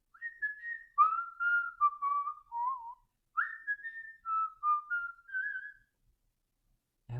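A clear melodic whistled tune from a childhood classic movie on VHS plays alone, with bright sliding phrases and a pause midway before it resumes.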